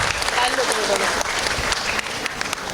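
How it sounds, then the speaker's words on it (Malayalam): An audience at a Thiruvathira festival gathering by a temple in Ravipuram, Ernakulam, applauds the children with dense, steady clapping that fills the whole moment, with voices mixed underneath. "നല്ലൊരു കയ്യടി നമ്മുടെ കൊച്ചുമക്കൾക്ക് കൊടുക്കാം."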